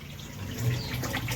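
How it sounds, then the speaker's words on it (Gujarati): Water runs steadily into a household storage tank, a continuous gushing splash heard up close with no talking. "પાણી આવ્યું છે"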